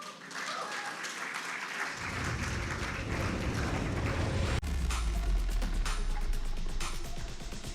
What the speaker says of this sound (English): Let's give a loud cheer for the dynamic Yash Mumbai Eagles team.